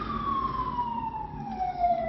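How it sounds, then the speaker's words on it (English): A wailing siren sounds at moderate distance, its tone sliding slowly downward over a low traffic rumble. "Hear a siren."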